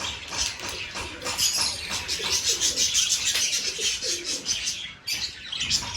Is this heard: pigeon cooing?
yes